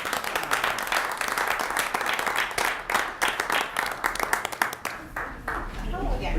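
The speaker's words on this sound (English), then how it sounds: "Give a round of applause." A small group at a village board meeting claps for holiday decorating contest winners, with sharp individual handclaps in an uneven, scattered rhythm and voices talking through and after it.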